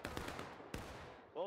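Scattered musket shots in War of Rights, a War of Secession battle game: two sharp cracks with rolling echoes amid a faint crackle of more distant fire, quiet overall, ending with a brief tonal sound.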